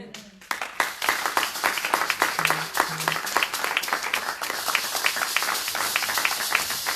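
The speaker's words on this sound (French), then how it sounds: "On acclame très fort pour la parole" A congregation applauds loudly after a sermon at a French-speaking evangelical church service, with dense, sustained clapping that fills the whole stretch and a few voices briefly rising above it.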